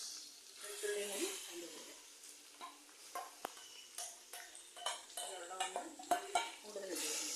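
Ginger and garlic paste sizzles in a pan with green chillies for mango pickle, a soft steady frying hiss broken by scraping stirs and light clicks of a spoon against the pan, with a voice speaking at times.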